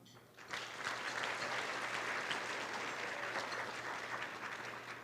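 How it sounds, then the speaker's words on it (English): Sustained applause from a crowd at a community luncheon for an education nonprofit, rising quickly and holding a steady, dense clatter of clapping for several seconds. "Can you please give a round of applause to our presenting sponsors"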